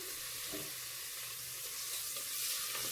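Meat added bit by bit to heated oil, frying for stuffed squash with rice, gives a steady, even sizzle that continues throughout with no talking.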